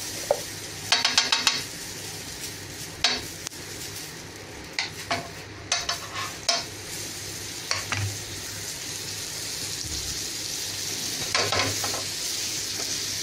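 Halved pav bread pressed down and frying on a pan for pav bhaji, a low steady sizzle broken by scattered scraping and tapping from a spatula against the pan.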